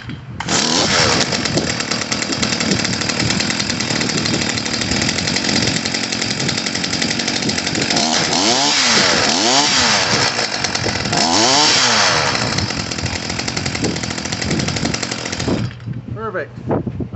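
A Stihl FC55 edger's small two-stroke engine runs loud and steady close by just after its idle screw is adjusted, a continuous buzzing drone with brief revving swells near the end.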